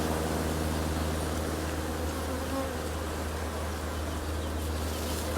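A honeybee swarm buzzes inside the hive, a dense continuous drone of many bees close by, steady and unbroken with no voices.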